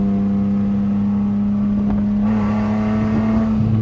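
A V6 Dodge Charger fitted with new spark plugs and coil packs accelerates in second gear: a loud, steady engine drone that thickens and climbs slightly partway through, with no voices.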